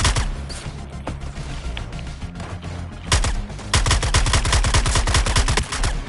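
Dense, rapid gunfire from the video game Suicide Squad Kill the Justice League comes in long, loud bursts with sharp repeated reports, growing heavier partway through with no talking.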